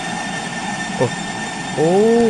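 MRT train passing overhead in the Bus Simulator Indonesia video game, set in Palembang: a steady, rushing rumble throughout, with someone briefly speaking over it.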